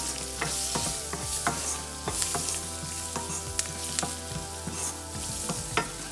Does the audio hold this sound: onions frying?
yes